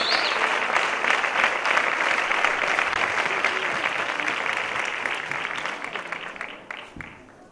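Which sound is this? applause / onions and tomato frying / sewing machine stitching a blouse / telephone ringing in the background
applause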